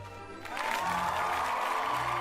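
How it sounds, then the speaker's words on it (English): A short burst of synthetic video game applause swells in after a brief quiet start and holds steady, with a faint tonal chime underneath. "There we go with the applauding."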